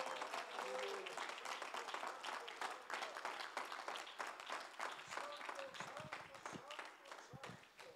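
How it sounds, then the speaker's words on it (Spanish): Sustained applause from a church congregation during a worship service, dense clapping filling the whole stretch at an even, fairly loud level. "Dele ese aplauso al Señor."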